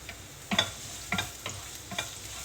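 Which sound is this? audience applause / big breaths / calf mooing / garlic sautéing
garlic sautéing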